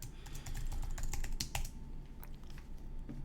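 Rapid clicking keystrokes on a computer keyboard as a password is entered, a steady close patter of light taps with a few louder hits, no voices.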